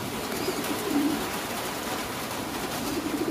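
A pair of King pigeons cooing softly in a loft, low throaty coos rising a few times over a steady hiss of background room noise, with no talking.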